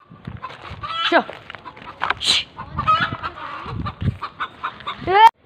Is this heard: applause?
no